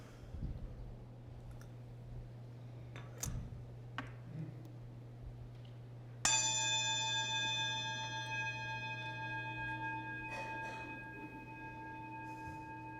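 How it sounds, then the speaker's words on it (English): A single bell is struck once to open a Unitarian Universalist church service, ringing out clearly and slowly fading into quiet, after a few soft clicks. "As we follow the sound of the bell into silence, we allow ourselves to arrive here fully."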